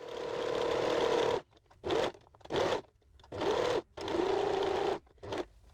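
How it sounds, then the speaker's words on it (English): An overlocker sews the edge of a fabric pocket piece in several close, loud bursts of rapid mechanical whirring separated by short pauses, with no one talking. "So we need this edge to be overlocked."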